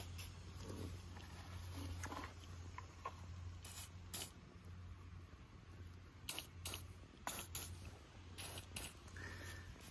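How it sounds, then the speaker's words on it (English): Anti-rust protecting spray hisses onto parts of an AL-KO Robolinho robotic lawnmower in short, close bursts, several quick sprays in pairs, between faint handling and tapping sounds. "I'm gonna put some more of this protecting product against rust on"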